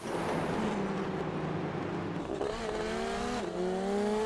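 Race cars in an Indy NXT iRacing sim race, several engine notes droning steadily with rising and falling pitch as cars shift and pass, loud and continuous with no talk.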